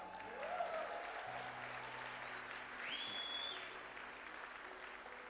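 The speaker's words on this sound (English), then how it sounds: "give yourselves a round of applause" Faint, distant audience applause at a Les Brown motivational speech, a steady wash of clapping from a crowd that swells slightly and then tapers off, with a brief tonal squeal partway through.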